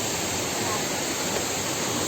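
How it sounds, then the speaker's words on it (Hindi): Small waterfall outdoors, a steady broadband rush of falling water, close and even throughout the short stretch. "वाटरफॉल वैसे छोटा वाला तो मिल गया"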